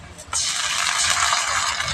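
Ginger garlic paste hits hot oil with lightly fried onions, bursting into a loud, steady sizzle that holds close and constant throughout.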